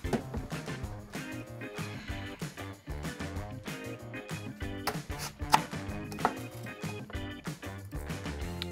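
An onion chopped with a knife on a cutting board, a rapid steady run of crisp close knocks and slices that continues throughout without talk.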